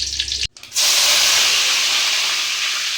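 Bay leaf dropped into hot oil for tempering: after a brief hush, a loud, sudden sizzling hiss bursts up and holds steady at close range.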